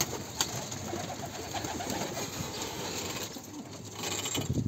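Soft pigeon cooing murmurs on and off against a steady low background hum, with a faint flutter near the start.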